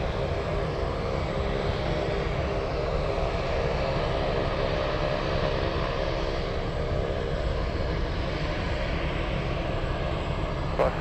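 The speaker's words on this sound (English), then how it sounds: "I am very excited to see the tri-jet take off" A McDonnell Douglas MD-11 tri-jet takes off at Anchorage airport, a steady, broad engine roar that stays loud and unbroken for the whole stretch, with no voices over it.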